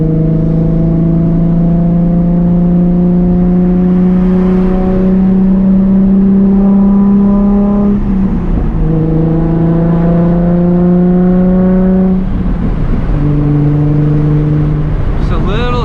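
Loud Nissan race car engine accelerates hard through several gear shifts, each climb in pitch broken by a quick drop, roaring close and steady for the whole stretch.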